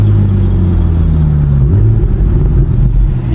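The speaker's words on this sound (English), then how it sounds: "Listen to the downshifts." A Porsche 911 engine growls loudly from inside the cabin on the move, its rumbling tone dropping and then surging as revs rise on a downshift, steady and close with no voices.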